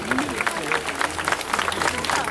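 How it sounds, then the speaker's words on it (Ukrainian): A crowd at a public meeting with a politician in Zvenyhorodka applauds Ukrainian soldiers, loud, close clapping with an uneven rhythm, voices mixed in. "Ваші оплески героям українським, які зараз боронять мир і спокій України."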